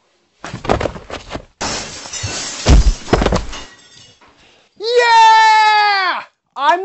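Glass shattering in a drunken party mishap, a loud crash and breaking burst amid shouting voices, followed by a drawn-out wailing cry.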